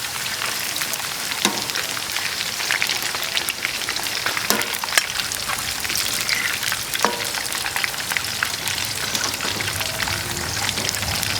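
Potato pieces deep-frying in hot oil in a wok, a steady dense crackling sizzle throughout with occasional sharper pops, fairly close and continuous, no voices.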